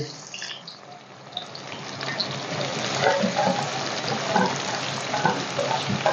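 Finely chopped onion, about one and a half, is tipped into hot oil for a tinda masala. It gives a steady, close sizzle with bubbling and a few stirring clatters, growing slightly louder, with no talk.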